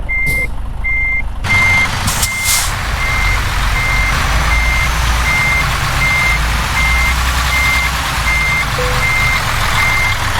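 A MAN TGX 480 truck reversing a trailer into a parking spot, its reversing alarm beeping at a steady, even pace over a loud idling diesel engine, with a brief hiss partway through.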